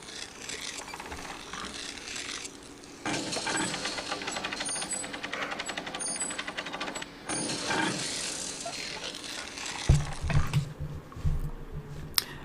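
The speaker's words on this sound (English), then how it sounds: "we get another little film clip with a horrible kind of grating metal noise." Harsh grating metal noise from a cutscene in the PS1 game Dracula: The Resurrection, a rough scraping and ratcheting mechanical texture that builds in bursts over a faint background, with some heavier thuds near the end.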